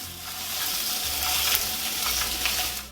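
Italian sausage sizzles in a pan while being stirred and moved around, a steady close frying hiss with soft scraping of the utensil, no talking.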